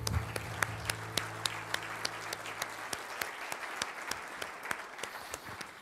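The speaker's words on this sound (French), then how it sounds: "On peut les applaudir." Sustained applause from an audience at a chamber of commerce New Year's greetings evening, many hands clapping steadily in a reverberant hall for several seconds, with a low hum beneath and no talking.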